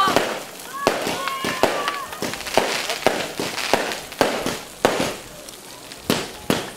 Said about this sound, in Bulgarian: Зарята е в чест на нашите младоженци.